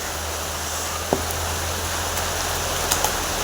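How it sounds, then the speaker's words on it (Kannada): Heavy rain falling outside a house, a steady broadband hiss with a low hum underneath and a few faint knocks, heard without talk. "ಹೊರಗೆ ಜೋರ ಮಳೆ ಬಂತು ನೋಡ್ರಿ, ಭಾಳ ಅಂದ್ರೆ ಭಾಳ ಜೋರು ಬಂತು ರೀ ಮಳೆ."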